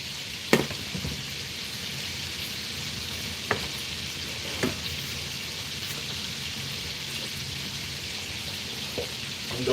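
Bacon frying in a pan gives a steady close sizzle, broken by a few sharp pops of spattering fat, with no voices.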